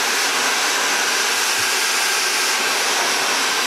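A hair dryer blows steadily and loudly on a mustache as it is styled back with a small brush, a constant close whooshing roar with no speech over it.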